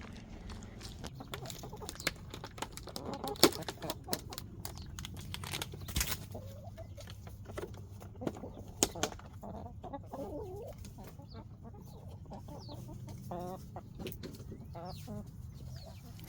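Several chickens cluck and murmur softly nearby, with scattered sharp pecking clicks and light rustling throughout.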